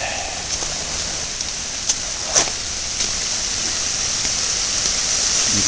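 Steady broadband rush of floodwater pouring and trickling into a drain grating, continuous and fairly close, with a few brief splashy clicks.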